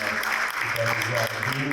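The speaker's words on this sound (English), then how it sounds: "A really big applause I'd like to give to the supporters." An audience claps through a short burst of applause at the opening session of an indoor event in Dubai, heard faintly behind someone speaking close to the microphone.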